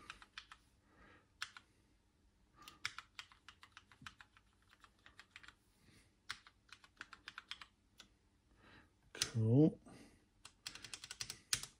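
Typing on a COMX-35 computer keyboard, with irregular bursts of fairly quiet key clicks spread through the stretch and a brief louder flurry near the end, while a person speaks a short word.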